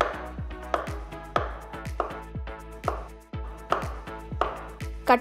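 A knife slices a ripe medium banana into thin pieces on a cutting board, giving about eight evenly spaced, crisp taps that thud into the board, close and clear with no talking.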